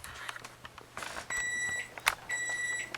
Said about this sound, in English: Just beeps 2 or 3 times